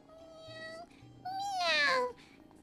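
Ashuru, a cat in the video game Genshin Impact, meows in two drawn-out calls, a short one and then a louder, longer, rising meow.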